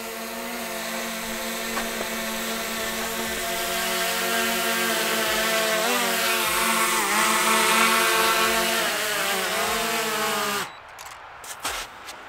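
A steady high-pitched propeller whine with layered harmonic tones from a DJI Mini 3 Pro camera drone hovers nearby, shifting slightly in pitch, then cuts off abruptly near the end.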